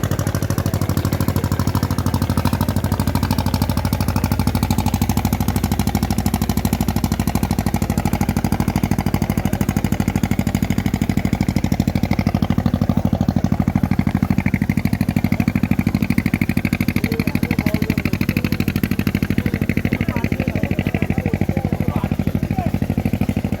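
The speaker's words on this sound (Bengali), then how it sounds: "এখান থেকে ট্রলারটা ছাড়া হলো, এটা যাবে নবদ্বীপে" A motor trawler ferry engine leaving the Mayapur ferry ghat for Nabadwip, a steady low drone running throughout with faint clatter and distant voices over it.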